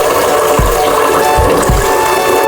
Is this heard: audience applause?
no